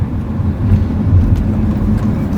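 A BMW 335i F30 with a ZF 8-speed automatic drives in second gear. The engine gives a steady, loud low drone and road rumble from inside the cabin, with no voices.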